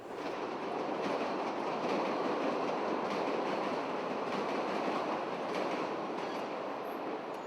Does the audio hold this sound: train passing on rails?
yes